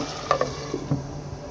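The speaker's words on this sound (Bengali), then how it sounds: "এখন আমি এটাকে ভালো করে নেড়ে ছেড়ে মশলার সাথে মিক্স করে কষিয়ে নিব।" Chicken pieces with spices and ash gourd stirred in a pan over low heat: a few close spoon scrapes and knocks over a soft, steady sizzle.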